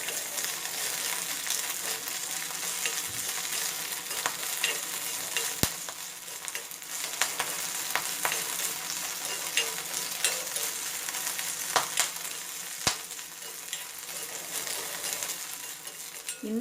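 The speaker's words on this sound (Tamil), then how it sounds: "பிரண்டையை நம்ம இதில் போட்டு நல்லா வதக்கிக்கலாம்." Pirandai (adamant creeper) sautéing in a pan with a steady, close sizzle and crackle, punctuated by occasional sharp clicks of a spatula scraping and stirring, no voices.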